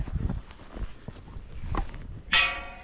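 Hooves of a Tennessee Walking Horse, a gaited horse, going downhill on a trail: several distinct clip-clop footfalls in an uneven rhythm, fairly close, followed by a sharp brief noise near the end.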